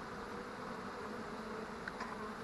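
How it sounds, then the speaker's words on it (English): A steady, close buzz of honey bees hums continuously around a hive being installed from a bee package, like bees circling nearby, with no voices. "There's going to be some bees flying around us for a little bit."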